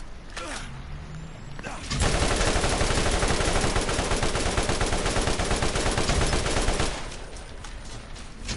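Sustained automatic gunfire in Borderlands, a long unbroken burst emptying a whole magazine, loud and dense for about five seconds between quieter game ambience.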